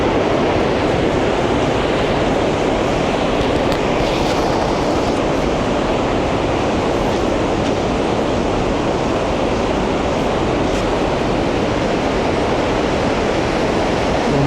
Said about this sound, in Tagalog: Ganda pala na itong Bumodok Falls.